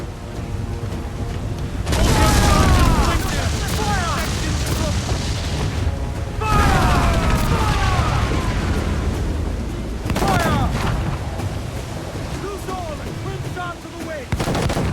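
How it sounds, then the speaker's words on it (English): Ship cannons in Assassin's Creed IV: Black Flag go off in heavy booming volleys during a naval battle, three loud surges of blasts with crackling debris and shouting, while a voice talks over them. "Cannon ready!"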